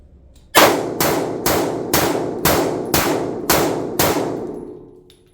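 Eight rapid, evenly spaced shots from a Gretta Protector .30 Tokarev pistol ring out loud and close, each crack overlapping the echo of the last, with no voices.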